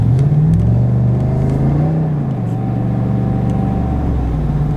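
Exhaust note of a 2022 Chevrolet Silverado ZR2 pickup cruising through city streets, a loud, smooth low rumble heard from inside that rises and dips gently as the truck accelerates and settles.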